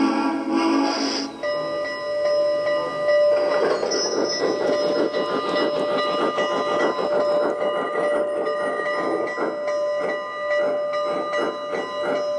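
A G scale live steam locomotive runs on an outdoor garden railroad, its steady chuffing and rail clatter filling the scene with a sustained whistle-like tone held throughout, loud and close with no talking.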